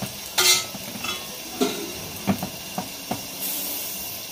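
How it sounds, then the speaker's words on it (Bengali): Rice is fried with lentils in a large pot for five kilograms of Bengali moong dal khichuri, a low hiss broken by several sharp stirring scrapes and clanks, heard close. "এরপরে চালটাকে একটু ভেজে নেব।"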